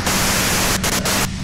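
Radio white-noise static hisses loud and steady in the video game Disco Elysium, broken by a couple of brief dips near the end, with no voices.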